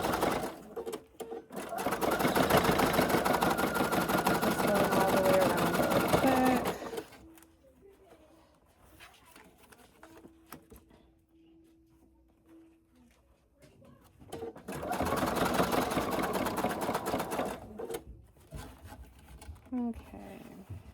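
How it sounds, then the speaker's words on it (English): A sewing machine stitches a zigzag in two steady, fast whirring bursts, close and loud, separated by a quiet pause with faint handling sounds. "I'm going to use the zigzag stitch."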